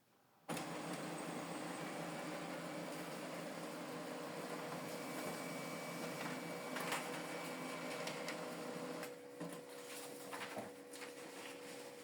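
A Brother printer starts up abruptly and runs a test page with a steady mechanical whir and humming tones, plus a few brief clicks and clacks, close by with no talking.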